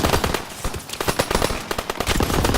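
Rapid, sustained machine gun bursts from Call of Duty WWII on the Hill 493 mission, loud and close, with dense overlapping shots and no clear speech.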